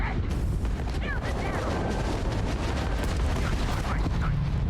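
A space battle in the game Starfield: a dense, continuous wash of gunfire and explosions crackles and booms without pause, with brief electronic chirps rising above the din.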